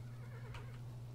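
Horse neighing in the video game Kingdom: a short, faint whinny over a steady low hum of background game audio.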